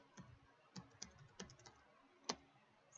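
Computer keyboard typing during a server configuration task: a handful of separate, sharp key clicks spaced irregularly over a few seconds, close and fairly quiet against a faint background.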